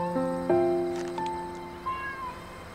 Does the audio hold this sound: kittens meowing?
yes